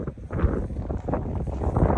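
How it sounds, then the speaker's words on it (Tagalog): Strong gusty wind from a winter storm roaring against the microphone in uneven bursts, loud and close, with no speech. "malakas ang hangin"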